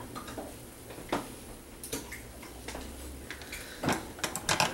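A spoon stirs dry malt extract, Bavarian wheat and Pilsen Light, into home brew wort, giving scattered clinks and scrapes against the pot over a low steady hum, sharper knocks clustering toward the end.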